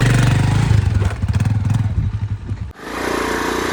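A motorcycle engine runs close by with a loud, throbbing low rumble that pulses unevenly, breaks off abruptly, then resumes as a steady drone.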